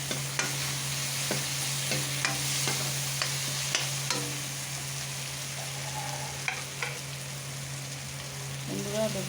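Fried shrimp being stirred into a pan of sizzling tomato, green chili and onion: steady close frying hiss with repeated scraping knocks of a spoon against the pan and a low hum beneath.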